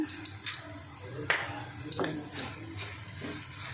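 A spoon scrapes and stirs salt into a chickpea kebab mixture in a bowl, making soft, quiet scuffing strokes with a few sharper clicks spaced over a few seconds.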